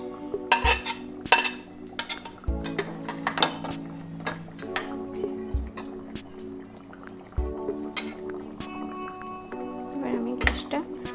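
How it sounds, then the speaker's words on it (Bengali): Mustard hilsa curry bubbles in a pan, the clink of a utensil stirring against the metal recurring at irregular moments over a low, steady simmer, close and moderately loud with no talking. "আপনারা দেখতে পাচ্ছেন ফুটছে ঝোলটা"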